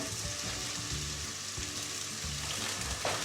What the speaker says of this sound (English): And onions are sweating down nicely.